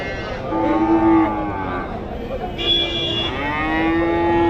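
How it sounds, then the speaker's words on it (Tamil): Dairy cows mooing at a weekly cattle market in Tamil Nadu, with two long drawn-out moos, close and loud, over faint background crowd noise. "ரெண்டு கறவை மாடு கொண்டு வந்திருக்காங்க"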